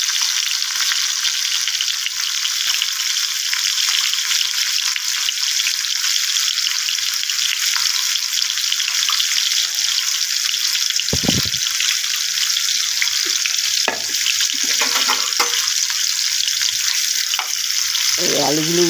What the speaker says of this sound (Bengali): এখানে পেঁয়াজগুলো দিয়ে ভাজা করে নেব